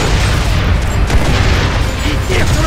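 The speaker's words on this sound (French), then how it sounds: "Il tire sur le bâtiment." Gunfire strikes a building in the video game Gears of War 2, a loud, dense barrage of booms and impacts that runs without a break, with game sounds mixed in.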